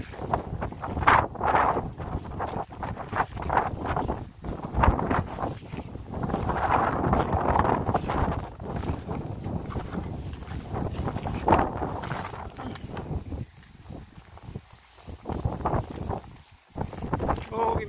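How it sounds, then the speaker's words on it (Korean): Strong wind blows at a riverbank with stony ground, buffeting the microphone in loud gusty rumbles that swell and ease throughout while someone talks over it at intervals. "바람이 상당히 세요."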